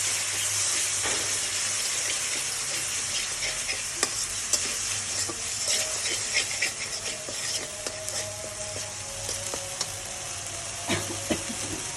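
Small amount of tomato cooking down into sauce in a pan, a steady close sizzle and hiss with scattered stirring scrapes and taps throughout, no voices.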